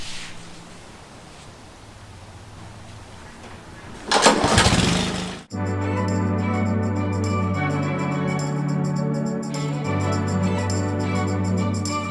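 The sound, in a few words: lawn mower mowing grass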